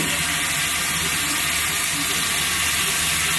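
Vallarai greens, onion, tomato and green chili sauté in a hot pan for chutney, giving a loud, continuous close-up hiss and sizzle with no talking.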